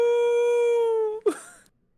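A person's voice imitating a wolf howl: one long sustained tonal note held for over a second, ending in a brief breathy break, loud and close.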